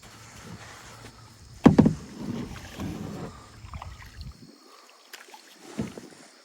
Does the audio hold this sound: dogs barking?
no